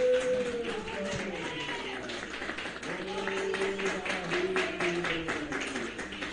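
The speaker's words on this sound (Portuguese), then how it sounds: "Palmas para Jesus, meus irmãos." A church congregation claps during a worship service, with rhythmic, moderately faint hand claps repeating in a steady beat. Voices can be heard underneath the clapping.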